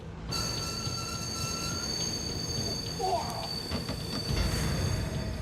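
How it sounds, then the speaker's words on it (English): A train braking hard to an abrupt stop at Itami Station rumbles and grinds as its brakes bite, with high squealing tones from the wheels and a steady rolling roar throughout. "The train comes to an abrupt stop at Itami Station."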